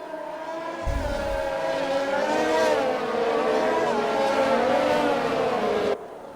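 Race cars in an Xbox racing game at Brazil pack together behind a safety car, a steady layered engine drone with shifting whine that holds at an even level for several seconds before cutting off.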